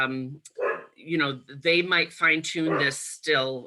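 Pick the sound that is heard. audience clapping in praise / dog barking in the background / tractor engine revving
dog barking in the background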